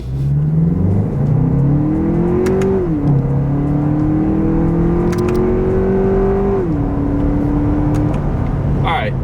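Lexus TX 350 SUV accelerating hard in manual shift mode, a loud steady engine drone rising in pitch, dropping at gear changes and climbing again, close and continuous.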